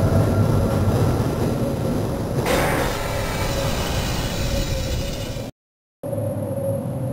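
A loud, steady mechanical rumble of an arriving tram in Half-Life rolls on continuously with a rising whoosh partway through, briefly cutting to silence near the end.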